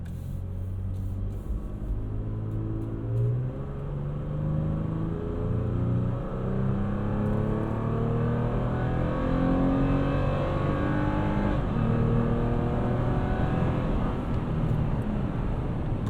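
Inside the cabin of a 2022 Toyota Tacoma TRD Off-Road, the engine revs rise steadily as the truck accelerates up an on-ramp on fresh pavement. A continuous loud drone is joined by road and wind noise, with no talking.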